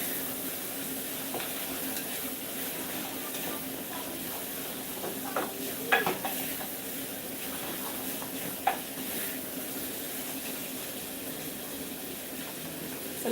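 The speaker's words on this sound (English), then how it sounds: "And then of course make sure you stir." Food with paprika stirred in a sizzling pan, a steady dense frying hiss with scattered scrapes and clinks of the utensil throughout, close and continuous.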